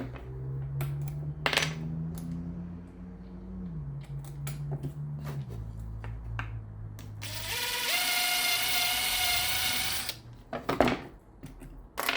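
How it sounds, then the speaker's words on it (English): A power driver sinks a screw into a scrap wood star: a low motor whine that steps down in pitch, scattered clicks and taps, then a loud, harsh grinding burst near the end before it stops. "I'm going to stick a screw right here."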